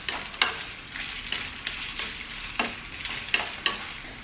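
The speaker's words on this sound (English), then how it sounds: "Fry it in a medium flame." Buffalo meat for pickle fries over a medium flame, giving a steady sizzle broken by repeated scraping stir strokes in the pan, close and with no voices.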